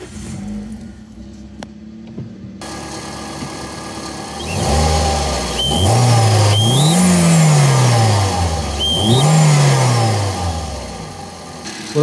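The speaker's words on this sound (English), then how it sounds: "Get ready for some serious turbo sounds." A turbocharged car engine is started, then revved several times up close, each rev rising and falling with a sharp turbo whistle riding on top, loud and without voices.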